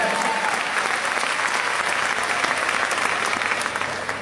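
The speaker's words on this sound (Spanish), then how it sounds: "Denle un aplauso al Señor Jesucristo, aleluya." A church congregation applauds during a service: dense, steady clapping from many hands, loud and sustained for a few seconds before easing slightly.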